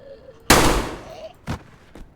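A loud gunshot from a gun in the DayZ game, Sakhal map, rings out alone, followed by two quicker, softer shots in quick succession.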